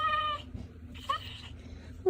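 A cat meows a few times, short rising calls close by with a person talking softly between them.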